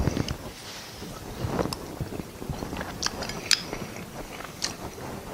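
Someone chews a mouthful of Texas hash close to the mic, soft crunching and wet mastication sounds in an uneven rhythm with no talking.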